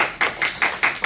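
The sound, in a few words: applause for the USMR medical team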